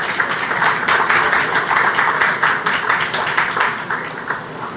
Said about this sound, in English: I really want us to give him a round of applause.